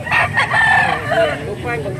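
A rooster crows loudly and close by, one long drawn-out call with a rising and falling pitch.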